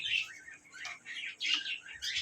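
Pigeons at a pigeon farm give repeated bursts of chirping calls at moderate volume, with short gaps between them and no voices.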